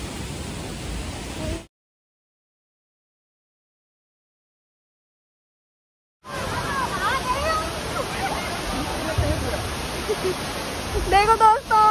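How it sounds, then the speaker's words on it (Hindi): Waterfall in Assam, a dense continuous broadband rush that cuts out for several seconds then returns louder, with splashing near the end. "हम आ गए हैं झरने के पास।"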